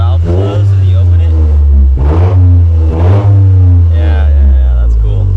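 A GR Corolla with an OTL Performance catback exhaust revs loudly and repeatedly, the engine note rising and falling in several strong bursts close by.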